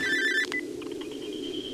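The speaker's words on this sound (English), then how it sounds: "Our phone is ringing" A telephone ringing inside the horror video game Cry of Fear: a short electronic ring burst at the start, then a sustained tone continues over a steady low ambient drone.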